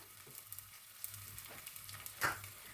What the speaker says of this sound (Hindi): मैं इसमें गोंद डाल रही हूँ, थोड़ा थोड़ा करके ही हम फ्राई करेंगे और ये पॉपकॉर्न की तरह फूलने लगेगा।